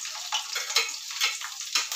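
Green chillies hit hot oil in a home kitchen, giving a soft, close sizzle with quick spitting pops and crackles in an uneven rhythm.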